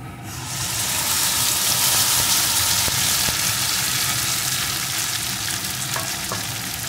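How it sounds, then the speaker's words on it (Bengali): Marinated katla fish hits hot oil with fried onion in a pan, bursting into a loud, continuous sizzle that swells within the first half-second and stays steady, with a few faint clicks of utensils. "এখন ম্যারিনেট করা মাছটা এর ভিতরে ঢেলে দেব।"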